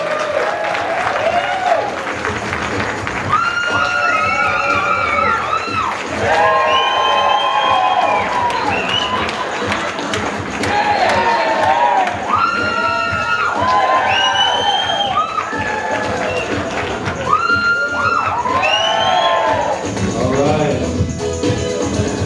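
Loud audience applause, cheering and high-pitched shouts and whoops swell in waves as a crowd votes for contestants on a runway at a hypnosis show.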